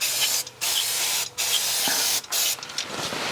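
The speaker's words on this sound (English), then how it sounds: "I'm going to spray some cleaner on it." Cleaner sprayed onto a David Brown tractor part in several close, loud hissing bursts separated by short pauses.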